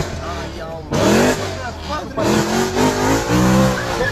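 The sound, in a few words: 600 hp BMW M3 Compressor engine revving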